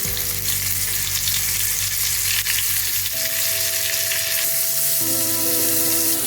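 Potatoes seasoned with salt and turmeric fry in mustard oil, giving a dense, loud, unbroken sizzle close by, with a few faint stirring sounds and a constant tonal hum in the background.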